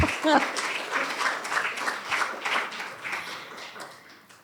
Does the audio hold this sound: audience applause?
yes